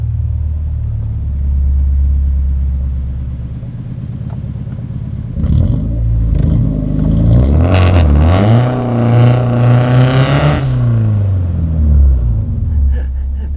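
A car with modified ECU software idles with a low rumble, then revs sharply on launch control before an uphill start, the engine note rising and bouncing in repeated bursts before settling back to a steady rumble.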